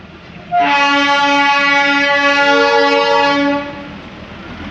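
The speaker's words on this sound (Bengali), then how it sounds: "টয় ট্রেনের ইঞ্জিন আসছে, দেখো।" The Darjeeling toy train engine sounds a loud, steady horn blast lasting about three seconds as it arrives at the station, with quieter station ambience before and after.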